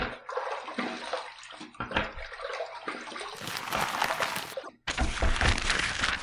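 Water runs and splashes as shaving lather from Cella Aloe Vera soap is rinsed off a face, a steady close gush with a brief gap before the flow resumes louder.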